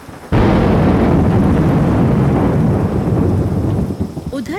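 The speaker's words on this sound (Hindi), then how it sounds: "उधर जंगल के दूसरे छोर पर बारिश अब तेज से तेज होती जा रही थी" Heavy jungle rain from an animated cartoon bursts in suddenly as a loud, roaring downpour with thunderous low rumble, holding steady for several seconds before easing slightly at the end.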